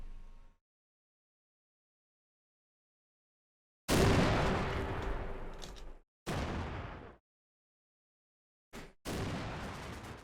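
Tanks explode in the modern war game Combat Mission: Black Sea, heard as several loud, heavy blasts separated by dead silence, each one rumbling briefly before cutting off.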